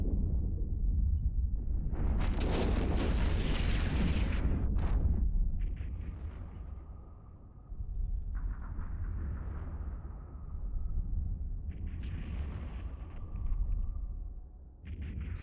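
Weapons fire and explosions from a ship battle in EVE Online: a loud, dense roar of blasts in the first few seconds, then quieter recurring bursts of firing over a steady low rumble.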